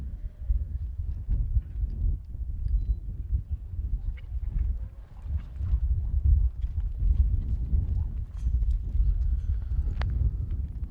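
Horse hooves thud and clop on the dirt as a six-year-old gelding makes a head horse run at a rope horse futurity, a steady, close, irregular drumming.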